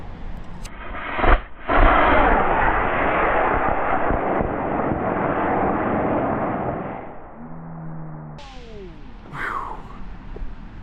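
A 3D printed model rocket motor ignites and roars loudly with a sustained rushing blast for several seconds, then fades as a whistling tone and wind noise follow outdoors.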